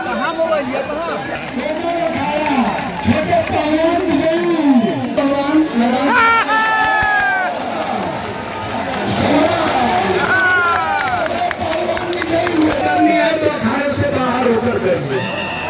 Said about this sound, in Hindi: आ तो गए हैं दोस्तों, बट काफी ज्यादा भीड़ है